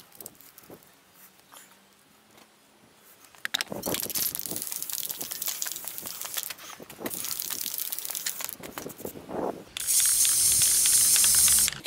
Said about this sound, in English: I'm just gonna spray the bottoms as well so that it get stuck into the paint